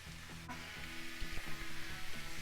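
Carrots frying with caramelized onion in a pan, a soft, continuous sizzle with a few stirring knocks and scrapes, fairly quiet and close, no talking.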